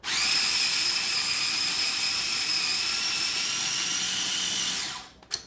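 A kitchen blender grinds garlic and oil for spinach and kale pesto, a loud steady high-pitched whir running unbroken for about five seconds before cutting off, followed by a brief clatter.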